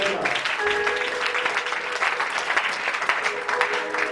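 A church congregation at a Pentecost service applauds and cheers the Lord, a steady dense wash of clapping with voices mixed in, loud and continuous throughout.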